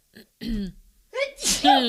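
A single close sneeze, a quick breathy intake followed by a sharp burst, with a brief bit of talk just before it.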